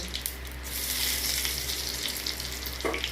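Crushed garam masala and bay leaf fry in hot oil, a close, continuous sizzle with a faint low hum beneath it and a brief rise near the end.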